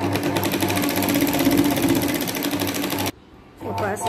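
A sewing machine runs steadily and loudly while stitching the lining of a katori blouse, with a fast, even mechanical whir. The motor stops briefly and then starts again, and someone talks over it.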